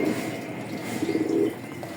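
Racer pigeons coo softly and repeatedly in a low, throaty murmur over a faint background hum, with no speech.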